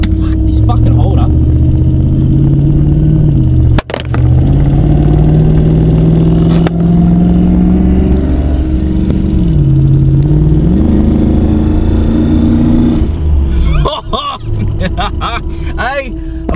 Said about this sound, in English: It's a fucking V8. In a Hilux.